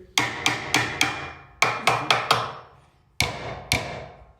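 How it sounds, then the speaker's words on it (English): Hammer strikes on a garage tool organizer being fitted in place, a close, sharp series of taps in quick bursts of four, four, and two, each ringing briefly before fading. "with the hammer, hit it over here, make sure it's straight here"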